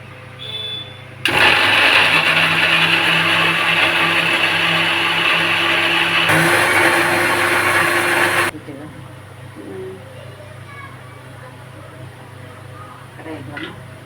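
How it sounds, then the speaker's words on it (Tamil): A kitchen mixer grinder whirs loudly and steadily for about seven seconds, grinding boiled tomatoes with green chilli and ginger for a rajma curry masala, then cuts off to quiet room sound. "அரைக்கிறதுக்கு மிக்சியில் போட போகிறேன்"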